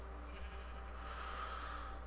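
Goats bleat in a Minecraft game, a couple of short nasal calls rising over a steady low game hum, fairly faint and without talk.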